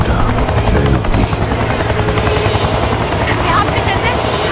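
A helicopter in the video game XIII makes a loud, steady rotor drone with a rhythmic chop that fills the whole stretch, with game voices partly beneath it.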